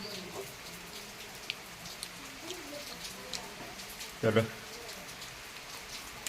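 Steady rain falls outdoors on a monsoon day, a soft continuous patter at moderate distance, with a brief louder burst partway through and a short spoken word.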